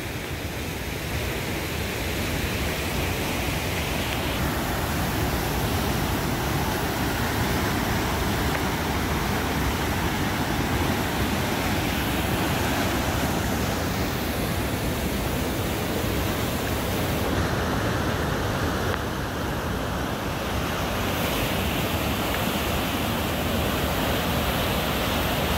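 Sluice Falls, a river waterfall on a canoe portage route, roars in a loud, steady broadband rush that never lets up, close and dense like heavy churning whitewater, with no voices.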